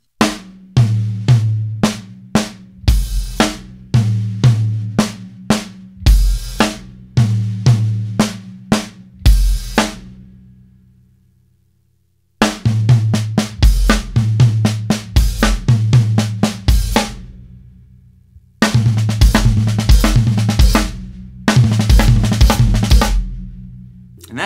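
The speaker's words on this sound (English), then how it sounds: "So I'll play the three six-note groupings that we're supposed to in this fill." A drum kit plays sixteenth-triplet fills in groupings of six notes with hi-hat, ending on accented snare hits, in three loud, crisp bursts separated by short silences.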